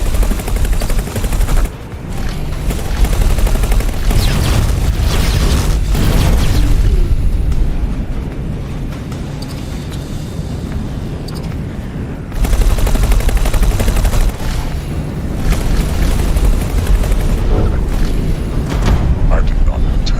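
Space combat in the video game X4 Foundation, with dense continuous gunfire, missile launches and booming explosions layered into a loud, churning barrage that briefly eases midway before surging again.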